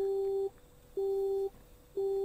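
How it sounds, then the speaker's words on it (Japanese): A public payphone gives a busy tone after the call cuts off: a steady, clear beep pulsing on and off in roughly half-second intervals, heard alone over faint background hiss. "電話が切れてしまっている。"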